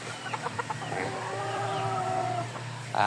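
Young roosters in a chicken coop give a drawn-out crow with a few short clucks before it, moderately close and with no voices over them.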